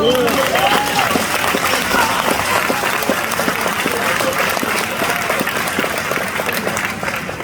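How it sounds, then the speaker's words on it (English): Sustained, loud audience applause at a film premiere Q&A, steady and dense throughout, heard close up and alone without speech. "give another round of applause"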